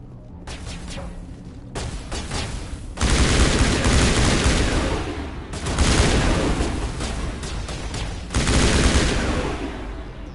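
Assault rifle gunfire in the video game Mass Effect Legendary Edition comes in loud, sustained automatic bursts, three long roaring volleys separated by brief gaps with single sharper shots in between.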